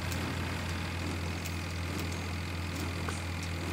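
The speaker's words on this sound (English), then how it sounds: "Mountain climbing with my tractor." Tractor engine in the video game Farming Simulator 2013, a steady low droning hum that holds even throughout, with faint ticks above it and no talk.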